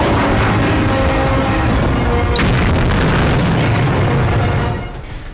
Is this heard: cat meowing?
no